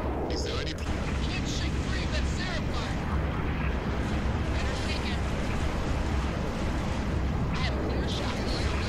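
Gunfire in Halo: Reach during a space mission, a dense, continuous barrage of shots and blasts filling the whole span at steady loudness, with a voice talking over it.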